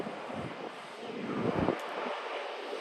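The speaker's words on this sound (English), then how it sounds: "This is our next plane, Qantas A330, my favorite, flying from Melbourne." A Qantas Airbus A330 arriving at Sydney Airport gives a steady, broad jet roar with wind buffeting the microphone, swelling slightly midway through the stretch and holding at a moderate distance.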